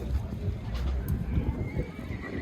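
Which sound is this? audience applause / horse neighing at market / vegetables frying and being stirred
horse neighing at market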